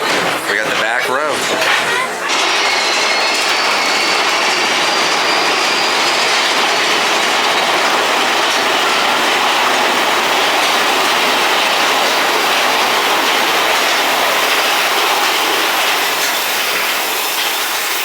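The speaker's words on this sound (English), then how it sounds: "All right, our train is here." A loud, steady rumble of a roller coaster train rolling along its track at Magic Kingdom, broadband and continuous, with a brief clatter at the start; voices talk faintly underneath.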